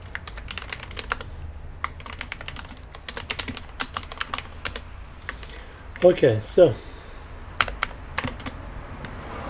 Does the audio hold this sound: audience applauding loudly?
no